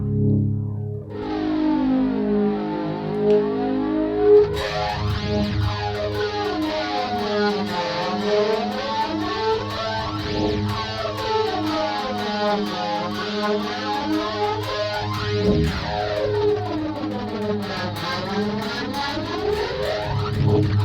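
Heavily processed electric guitar through an ART SGX 2000 preamp on its Guitar Soup preset swirls and warbles in sweeping, echoing waves, distorted and dense, playing alone for a long stretch.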